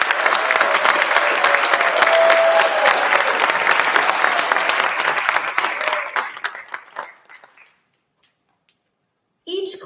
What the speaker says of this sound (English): Round of applause for our graduates.